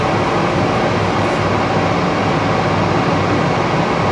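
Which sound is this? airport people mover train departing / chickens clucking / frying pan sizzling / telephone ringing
airport people mover train departing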